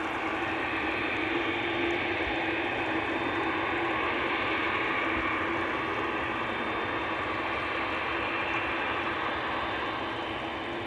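Steady, broad jet-engine roar from Delta Airbus A330-300 airliners on the Polderbaan runway at Amsterdam Schiphol Airport, a constant rushing drone heard from a distance that holds level without breaks.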